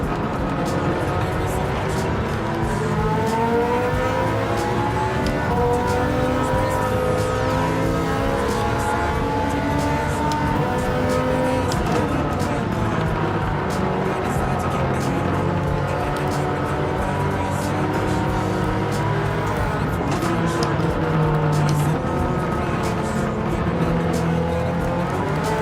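Race car engines in the Gran Turismo 7 video game drone loud and continuous, with rising and falling revs from a pack of cars, constant for the whole stretch.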